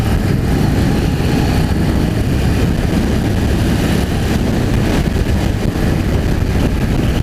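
Engine of a Harley-Davidson Street Rod 750 motorcycle running on the road, a loud, steady low drone with a continuous rasp that holds without pause for several seconds.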